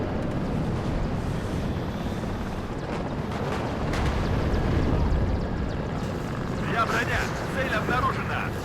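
Helicopter in the Warno war game, a steady whirring rotor and engine drone running continuously under someone talking, with brief distant battle bursts late on.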